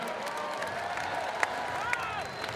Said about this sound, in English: how about a round of applause for these young men putting on a show?